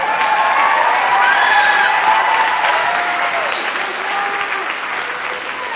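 An audience applauds after a live jazz poetry performance, dense sustained clapping that fills the room and slowly thins toward the end, with some faint voices and a few whoops mixed in.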